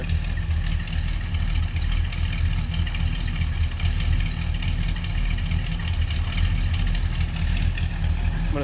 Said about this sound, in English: Nice little rumble out of that 455. Nice deep exhaust note.